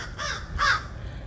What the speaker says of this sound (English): The crow agrees.